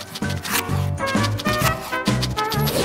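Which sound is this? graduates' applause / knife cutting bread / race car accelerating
knife cutting bread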